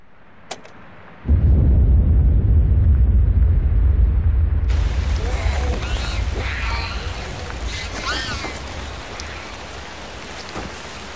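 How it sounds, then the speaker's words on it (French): A bomb detonating inside a mine in the video game Forbidden Siren, a sudden deep rumbling blast after a click that rolls on as a long, loud, noisy roar and slowly fades with some faint cries. "il faut appuyer sur le détonateur de la bombe"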